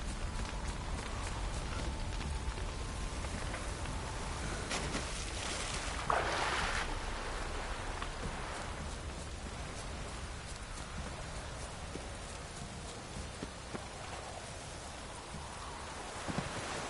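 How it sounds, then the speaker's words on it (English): Rain falling in the video game The Witcher 3, a steady, dense hiss that runs without a break, with a brief brighter splash partway through and no voices. "Looks like rain."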